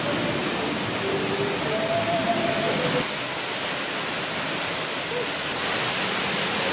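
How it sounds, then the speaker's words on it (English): Loud, steady rush of the waterfall at Epcot's Canada pavilion, a broadband roar filling the whole stretch close up, with faint background tones early on and no speech over it. "like we always do, walk by this waterfall."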